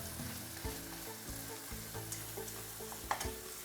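Frozen sweet corn hits a hot pan with corned beef, giving a steady sizzle with a few soft stirring scrapes and one sharper clack near the end. No one speaks.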